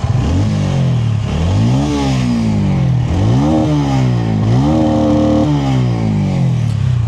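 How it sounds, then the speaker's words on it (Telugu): A 2026 TVS Ronin 225 Agonda Edition motorcycle engine revs repeatedly, rising and falling in pitch over a loud idle, close by with a rough exhaust note. "ఒకసారి ఎగ్జాస్ట్ సౌండ్ వినండి"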